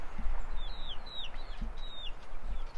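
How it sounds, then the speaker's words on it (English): A non-silkie hen kept among silkie chickens gives soft, repeated clucks at close range, with faint higher chirps from other birds over a quiet farmyard background. "that's one of the chickens that enjoys being with the silkies, even though it's not a silkie."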